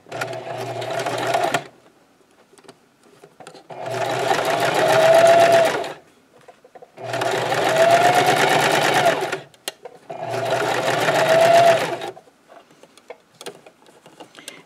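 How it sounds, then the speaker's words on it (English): A domestic sewing machine stitches a scrub cap in three loud, steady whirring runs of rapid needle strokes, forward and then in reverse, each lasting a couple of seconds and separated by short pauses with light handling clicks. "I'm going to do about 3 stitches forward. We're going to do a back stitch."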